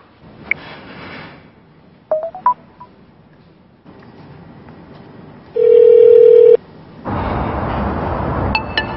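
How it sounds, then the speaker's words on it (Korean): A telephone in a Korean TV drama scene gives a loud, steady electronic tone lasting about a second, surrounded by short beeps and clicks on a quiet line. "전화와 안 받노?"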